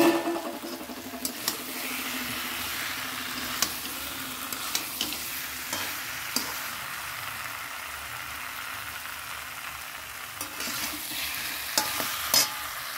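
Egg is added and stirred in a frying pan, giving a steady sizzle with intermittent scrapes and clinks of a spatula against the pan, close and alone.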